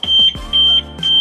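A loud, piercing Audi TT car alarm beeps in rapid repeated pulses, close by, with short gaps between each tone; the key fob battery is likely dead.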